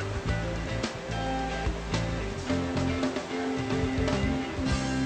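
Rushing river rapids on a raft trip through a canyon in Alaska, a loud, continuous roar of churning whitewater that fills the whole clip without any voices.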